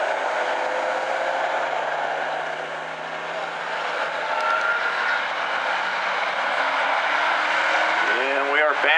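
Hobby stock race cars roar around South Sound Speedway under a restart, a broad engine drone rising and falling as the field passes, with a track announcer's voice over it and a sharp sweeping whine near the end.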